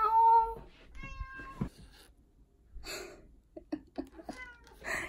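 A pet cat meows several times in a quiet room in the morning, short close cries that come and go with pauses between them.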